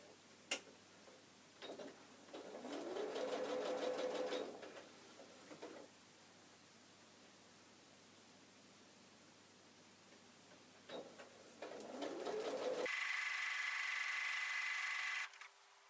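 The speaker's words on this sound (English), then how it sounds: "I'm going to be sewing down that long edge with fabric number 2 on the top" A sewing machine stitches fabric strips for a quilted Christmas table runner, its quiet rapid ticking running in a few short bursts with pauses between, faint against a low room hum.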